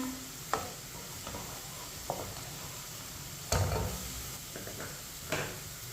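A spoon stirs onions frying in a pan over a medium flame for chana pulao, a steady close sizzle broken by several scraping knocks of the spoon against the pan, with no talk.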